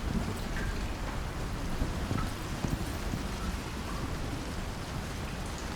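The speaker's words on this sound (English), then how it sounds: "It's just making the sound effect because it's raining" Steady rain pours in the Icarus video game, a dense, continuous hiss with low rumbling underneath and scattered patters of drops, loud and unbroken with no talking.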